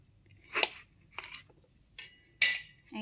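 A knife cutting a lemon into pieces on a board, four or five separate sharp cutting and clinking strikes with quiet gaps between them, close and fairly crisp.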